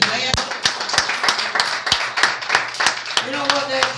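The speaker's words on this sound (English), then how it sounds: "God ought to have a hand clap after that." A church congregation claps by hand in a steady rhythm, sharp close claps under continuous talk and voices.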